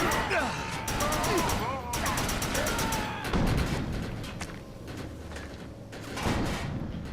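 Gunfire rattles in the Defiance video game as enemies are shot, with rapid bursts of shots and crashing impacts mixed with game effects, while a voice talks over the action.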